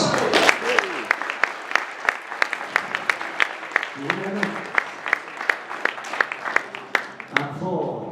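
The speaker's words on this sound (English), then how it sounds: "with a massive round of applause" Applause for a player at an Ardacon tabletop gaming tournament, with loud individual claps ringing out in a quick, fairly regular rhythm against a softer clapping bed, and voices talking over it partway through and at the end.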